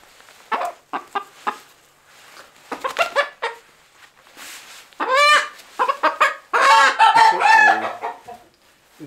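A white Leghorn laying hen clucks close by in loud, harmonic bursts. The calls start as short separate clucks, then grow into longer, drawn-out squawking phrases, with no talk.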